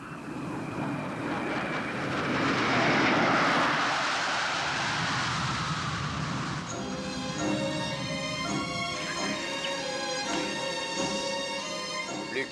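Aircraft engine noise from a plane preparing for takeoff, a loud rising roar that swells and then settles into a steady whining drone with tonal hum, heard alone.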